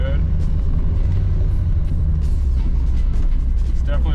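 A third-generation Chevrolet Camaro fitted with an Aces EFI Killshot fuel injection system drives along with a loud, steady engine rumble heard from inside the car, with people talking over it.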